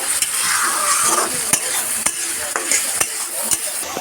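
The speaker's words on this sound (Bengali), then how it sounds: "এবার আমরা কয়েক টুকরো টমেটো অ্যাড করে দিলাম মানে মশলাটা মোটামুটি কষানো হয়ে গেছে" Tomato pieces cook in fried, well-browned spice masala for a Bengali koi fish curry, a steady close sizzle broken by repeated scraping stirs of a spatula against the pan, with no talking.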